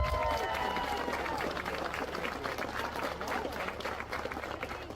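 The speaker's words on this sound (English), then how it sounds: "Give all of them a round of applause." Applause for girls' sports players at a Grass Lake sports report event, a moderately loud, steady patter of clapping from a small crowd that fades slightly over a few seconds, with faint talk mixed in.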